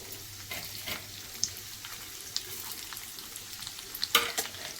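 Quiet, steady sizzle of urad dal, ginger, garlic, dried red chillies and tamarind frying in oil, with occasional crackles and pops, including a sharper burst near the end.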